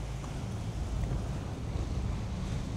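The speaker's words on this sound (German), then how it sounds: "Der Wind ist ein bisschen aufgefrischt" Wind buffets a boat out on the Kettelmeer, a close blustery roar with low rumbling gusts and a steady wash of water noise, with no speech.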